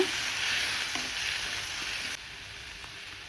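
Onions and asafoetida being sautéed in a pan for pepper chutney make a steady, fairly soft sizzle with faint stirring touches, briefly dropping in level partway through.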